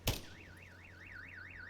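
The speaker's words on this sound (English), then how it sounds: "That just had the alarm go off." A car alarm goes off in a Forza Motorsport racing game, a clear warbling siren that rises and falls in even cycles after a sharp opening thump, steady and alone.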